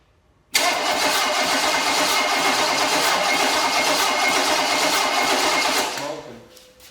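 Small block Chevy engine cranking with a rapid, steady whirring starter buzz that begins suddenly and runs several seconds before tapering off; voices are faint in the background.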